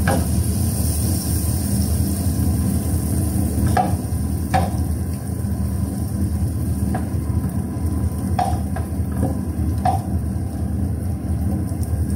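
Butter melts in a hot pan with a steady soft sizzle and hiss, while occasional clinks and scrapes of a utensil stirring sound close by.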